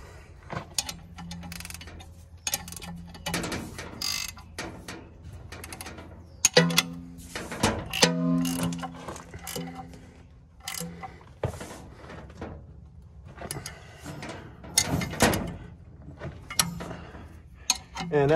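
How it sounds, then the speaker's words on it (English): Bolts tightened with a wrench on a Gleaner R72 combine being set up for wheat: scattered metallic ratcheting clicks and clanks, close and irregular, with quiet gaps between bursts. "Then just tighten the bolts back up."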